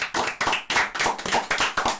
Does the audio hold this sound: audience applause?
yes